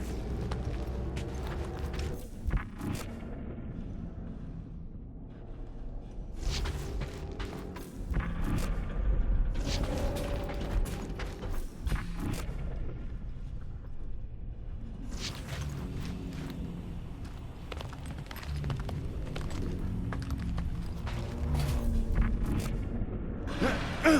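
A giant vacuum machine in the Guardians of the Galaxy video game rumbles and clanks steadily, with mechanical creaks, booms and whooshing bursts over a low drone and no talking.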